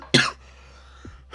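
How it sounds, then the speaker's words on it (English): A person with a lingering cough after the flu lets out a harsh, close cough, then a quieter pause and a second cough starting at the end, loud against a faint hum. "sorry I'm coughing"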